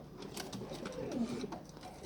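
Pigeons on a home balcony coo softly: faint, low cooing murmurs mixed with light rustling and a few higher sounds, close by but quiet, with no speech.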